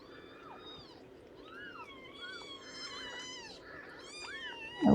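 Newborn kittens of a feral mother cat mew in thin, repeated cries, overlapping high calls from close by with a steady faint background hum, ending in a sudden loud knock.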